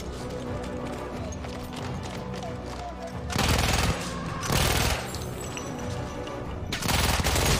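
Rapid gunfire from a weapon in the World War I shooter Battlefield 1. Several loud bursts rattle out over a busy background of battle noise, with quieter stretches between them.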